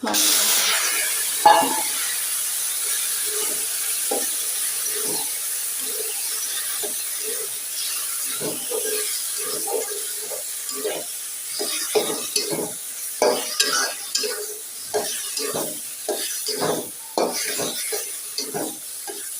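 Leafy greens fry in a pan after lightly browned dal. A steady sizzling hiss runs under frequent scraping stirs that grow busier and more rhythmic toward the end, close and clear with no speech.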